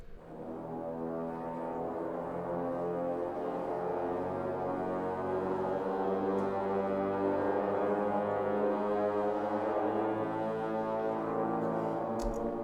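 A Shepard tone riser made of orchestral layers swells as one continuous, endlessly climbing tone. The dense, sustained harmonics build steadily at an even loudness with no talking.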